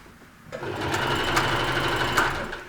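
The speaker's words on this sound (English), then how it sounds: "I'm going to sew all the way down that seam" A sewing machine fitted with twin needles runs steadily along a seam in stretchy knit fabric, starting after a half-second pause, then humming loudly and closely with a fast, even rhythm until the end.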